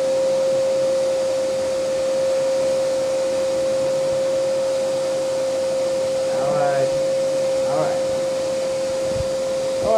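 A vacuum cleaner runs steadily, its motor holding a constant whining hum while it is used to style spiky hair; a voice speaks briefly over the drone.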